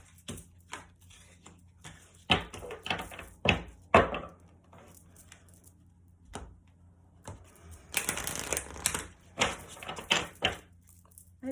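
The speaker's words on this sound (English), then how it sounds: "I'm going to get an advice card for you, Leo, before we wrap this up." A deck of advice cards being shuffled, a quiet, close series of papery flicks and taps with a denser rustling burst in the middle, no voices.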